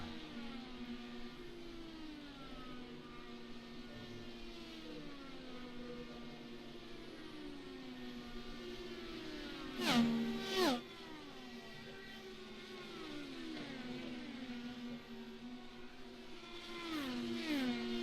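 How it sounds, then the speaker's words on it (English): IndyCar race cars in a racing sim game: steady whining engine notes rising and dropping as the cars shift through the gearbox into turns one and two, with a brief louder burst midway. "You can hear the cars going through the gearbox, going into turns 1 and 2 here."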